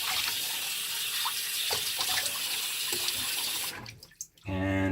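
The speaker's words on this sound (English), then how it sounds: "So, hot water rinse." Hot tap water runs steadily into a sink for rinsing during a shave, a continuous close splashing rush that cuts off abruptly near the end, followed by a brief hollow drip and a low hum.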